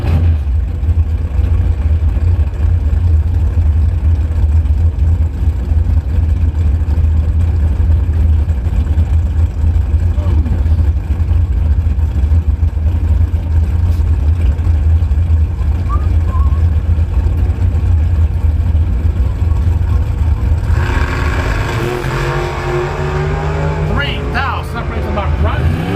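A Ford-powered dragster launches against another car in a bracket drag race, a loud continuous engine roar over steady crowd and commentary noise, rising sharply in the last few seconds as the cars rip down the strip.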